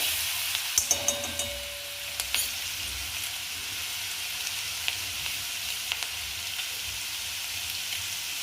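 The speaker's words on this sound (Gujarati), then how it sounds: "લીમડો તમાલપત્ર અને લીલા મરચાં સાથે લસણ ને સાંતળી લઈશું" A steady, bright sizzle of garlic, curry leaves, bay leaf and green chillies frying in hot oil, with a few sharp crackles and pops early on. Close and continuous, with no voices.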